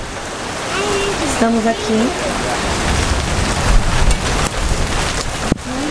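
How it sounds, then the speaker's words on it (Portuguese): Steady rain falls at night in the dark, a dense hiss running through the whole stretch with a few sharper knocks, while people talk briefly over it near the start. "Já começou chovendo."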